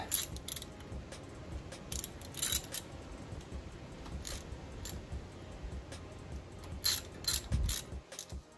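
A ratchet wrench clicks steadily while rocker arm bolts are tightened on a 2011 Dodge Journey 3.6 engine, with close metallic ratcheting bursts and occasional tool clanks.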